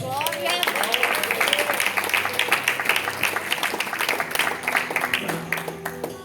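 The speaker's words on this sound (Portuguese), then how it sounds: "Aplauda Jesus" A church congregation claps and cheers together after a sermon, dense steady applause with crowd voices filling the room for several seconds, fading slightly toward the end.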